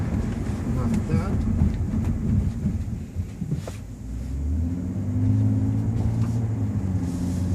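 A 2014 BMW 2 Series, either the 228i or the M235i, accelerating hard on the road, its engine a steady low rumble that builds and rises in pitch under continuous cabin and road noise.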